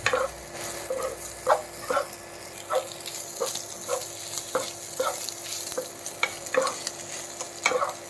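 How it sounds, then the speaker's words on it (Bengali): A spoon scrapes and clacks in a pan as boiled, salted chicken is stirred into buttery pepper pasta, with regular close stirring knocks over a low sizzle and no talk. "ভালোভাবে মিশিয়ে নেব সব।"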